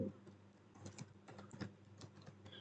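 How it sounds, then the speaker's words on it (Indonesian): Typing on a computer keyboard during data entry gives a soft, irregular patter of key taps, some clustered and some spaced apart, faint and close over a low background hum. "jadi harus uh, ketik ulang"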